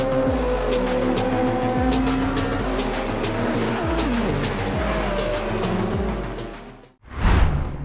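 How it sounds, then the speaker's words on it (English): A race car in the VR racing game Le Mans Ultimate screams down the Mulsanne straight, its engine roaring loud and rising through repeated gear shifts, then braking hard near the end with a brief burst of noise. "You're about to scream down the Mulsanne straight at 200 miles per hour, then slam the brakes"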